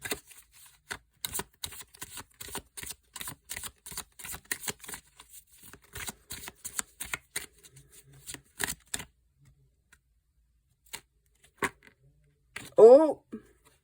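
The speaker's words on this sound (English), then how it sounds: "I'm going to pull one tarot card for these motherfuckers." Tarot cards being shuffled, a rapid run of crisp riffling flicks and taps over several seconds, then a few scattered card snaps with a brief voice near the end.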